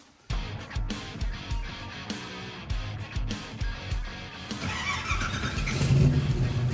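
The Disgustang project car's engine starts and revs repeatedly in sharp bursts, then settles into a louder, steadier drive-away rumble with some squeal, close by and without talk.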